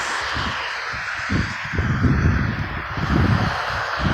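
Crows caw repeatedly outdoors on a very windy day, the harsh calls rising over a steady roar of wind.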